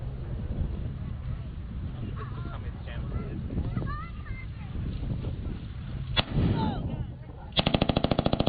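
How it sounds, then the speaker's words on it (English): World War II Japanese Nambu light machine gun fired at a weapons demonstration: a single sharp shot, then a rapid burst of evenly spaced rounds near the end, with people talking and crowd noise before it. "being able to pull the trigger on this light machine gun and fire off a single round"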